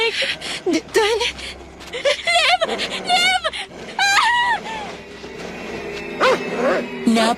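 A drooling dog barks and whimpers in a Filipino aswang horror audio story set in a rural village without electricity. The sharp yips and whines come close and loud, mixed in with people talking over them.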